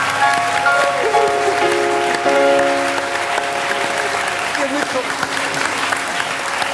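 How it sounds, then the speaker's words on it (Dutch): Indoor audience applauding the winner of a national station piano competition, a sustained loud wash of clapping with voices mixed in, fading slightly toward the end. "Dames en heren, mag ik een heel groot applaus."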